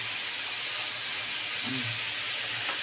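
Zucchini frying with peppers and onion in a pan, a steady loud sizzling hiss throughout with a faint brief low tone near the end.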